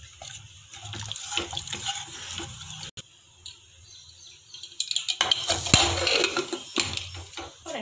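Water pouring into a pot of lentil dal curry, a gurgling splash that starts and stops, swells louder near the end, with faint clinks of the pot.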